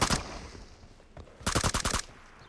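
Suppressed gunshots from a video game: one muffled shot at the start, a faint one mid-clip, then a quick run of about six soft, clipped shots in rapid succession.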